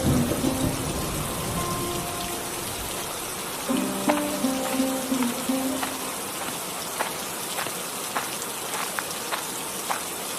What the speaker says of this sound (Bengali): একিরে রতন, এই বৃষ্টির ভেতর জমিতে কাজ করব কিভাবে?